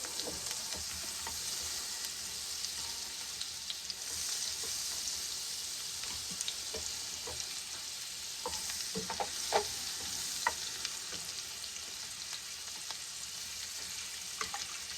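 Butter sizzles on a hibachi griddle before eggs are scrambled, a steady bright hiss with scattered spatula taps and scrapes across the hot flat-top, no one talking.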